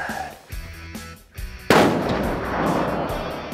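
.50 BMG Tac 50 rifle fired outdoors in field testing, one sharp, very loud blast followed by a long rolling echo, preceded by quieter low thumps.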